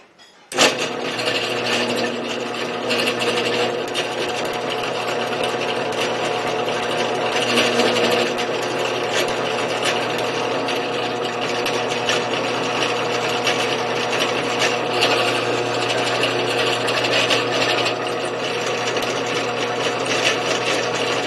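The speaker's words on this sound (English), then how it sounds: "the drill bit is stiffer and won't bend as much as a regular drill bit" A stiff drill bit bores a hole into a steel rifle scope mount for an SKS build, a steady continuous motor whine with grinding, close and loud throughout, no talk.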